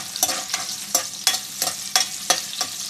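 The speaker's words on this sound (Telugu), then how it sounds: "పచ్చిమిరపకాయలు వేసుకొని కొంచెం వేగాక" Green chillies frying in hot oil for egg fried rice, with a steady sizzle broken by about eight regular, evenly spaced stirring scrapes in under three seconds, close and fairly loud.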